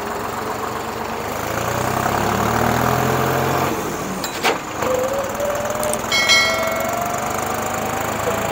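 A Deutz-Fahr Agrolux 55 hp tractor engine runs while the tractor is driven, giving a steady, loud, close mechanical drone with a few brief metallic clanks partway through.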